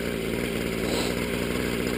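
RC helicopter engine fitted with an extra muffler and an air filter on the carburetor intake, running continuously with a steady, dense drone throughout at constant loudness.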